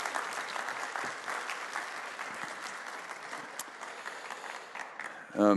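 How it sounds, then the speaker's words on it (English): An audience at a community gathering applauds steadily with scattered cheers, a sustained wash of clapping that fades slightly before a voice cuts in at the very end. "y'all cheer for Sean and Kim."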